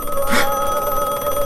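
A telephone bell rings loudly and steadily with no talk over it, set against a constant background hum.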